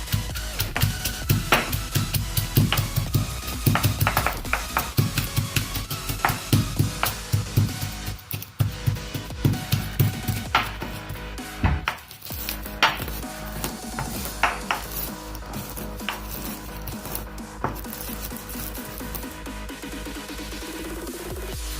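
Whole roasted spices for a dry gravy masala are pounded and ground in a mortar and pestle, a rapid train of sharp knocks and gritty scraping that gradually settles into slower, softer grinding.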